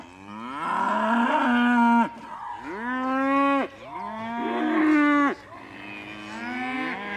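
Cows moo in three long, loud, close calls, each a deep drawn-out bellow with brief gaps between, followed by a softer fourth moo.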